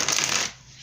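A brief riffle of a deck of tarot cards being shuffled, one crisp papery burst close to the mic that stops after half a second.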